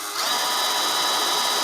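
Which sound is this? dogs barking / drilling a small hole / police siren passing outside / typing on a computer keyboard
drilling a small hole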